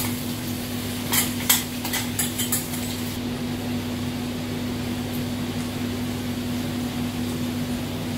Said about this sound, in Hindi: अब जब तक मसाला थोड़ा हल्का सा फ्राई हो रहा है